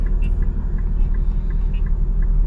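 A car with a 3.7 engine driven at night with the window down and the air conditioning off: a loud, steady low engine drone with a rumbling undertone and faint ticking, heard close from inside the cabin.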